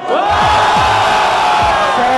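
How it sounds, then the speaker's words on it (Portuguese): A crowd at a Brazilian freestyle rap battle in the Batalha da Matrix, 47th edition, roars and cheers loudly and continuously, with shouts and whoops rising above a dense wall of noise. "Barulho pra quem gostou da rima do Cauã."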